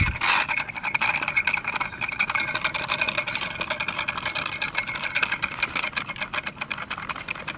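A Daiwa Saltiga Dogfight 8000H reel spooling 51kg WFT line gives a steady, close mechanical whir with a dense rapid ratcheting texture, running continuously throughout with no talk.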